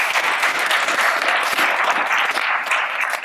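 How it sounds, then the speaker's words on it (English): Audience applause at a conference panel on food systems and circularity, a steady dense wash of clapping close by and fairly loud, continuous through the short stretch with no talk over it. "definitely an applause for the food and the way that it's been presented and prepared and served"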